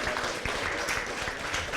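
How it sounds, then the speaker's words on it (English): Audience applause at a retirement community talk, a steady dense wash of many hands clapping at close range, continuous and fairly even for the whole stretch. "can we get a round of applause for Gary Gold, Sensei Gary, everybody."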